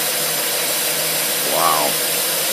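An engine fitted with a Holley teapot carburetor runs with a steady, fairly loud drone and rises briefly in a short surge partway through.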